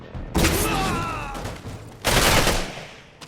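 Explosions and gunfire from the video game Singularity on the docks come as two loud, dense bursts of blasts and rattling shots with a short lull between them.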